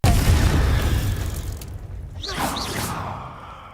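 A Confringo fire spell bursts in Hogwarts Legacy, a loud explosive boom with a rushing whoosh that decays over a few seconds, followed by fainter crackling flares.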